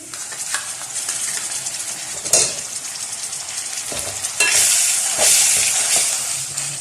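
Garam masala spices sizzle and crackle steadily in a hot pan, with occasional scraping bursts from stirring, loud and close with no voices.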